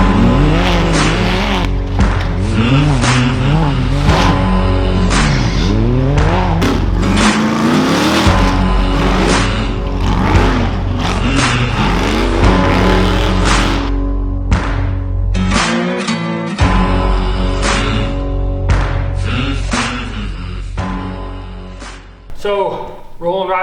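UTV race cars run hard at the Badlands Brawl in Attica, Indiana, their engines revving and surging continuously with tire squeal, loud and close, and a voice talking over the action.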